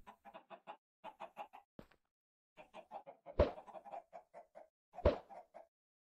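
Blocky Minecraft chickens cluck in quick repeated bursts after thrown eggs hatch, with a couple of sharp louder pops among the clucks, fairly close and without talk.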